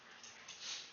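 A dog whimpers faintly in a high, thin whine that rises toward the end, buried under steady broadband hiss in an indoor room.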